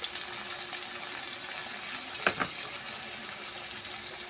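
Ground cumin, coriander and turmeric sizzle in hot oil with tomato: a steady, faint, even hiss with a brief clink of stirring midway.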